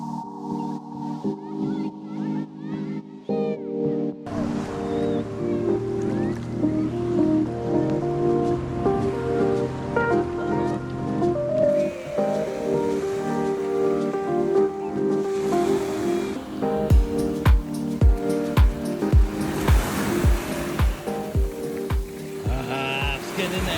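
Ocean surf on a beach at Lamai, Koh Samui, with waves washing in steadily and rushing louder in the final seconds while voices talk nearby.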